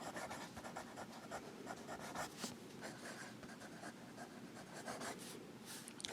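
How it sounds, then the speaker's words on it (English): Fountain Pen Revolution Tanoshii fountain pen writing fast on paper, a steady, close scratching of nib strokes with rapid repeated swishes, quiet and continuous with no talking. "Fast writing."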